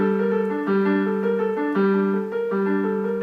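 Piano playing the ending of a theme with only the top G on top, sustained chords alternating in a slow repeating pattern, clear and close, no talking.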